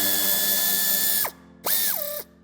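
Power ratchet or drill driving out a screw behind the plastic of a 2021 DS 4 five-door bumper during tow hitch fitting, a close whirring burst that stops, then a second shorter burst winding down.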